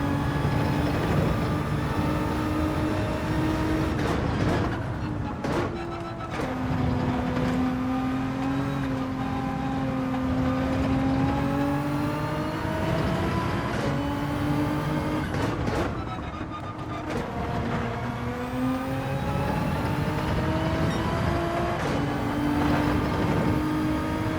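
A GT2-class race car engine drones steadily at Spa in Gran Turismo 7, its pitch rising and falling with shifts and throttle, loud and continuous, with brief dips around gear changes.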